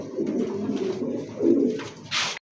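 A pigeon coos close by in soft, rolling low phrases for a couple of seconds, ending with a brief hissy rustle.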